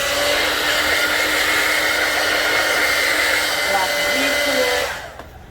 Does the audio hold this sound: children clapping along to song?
no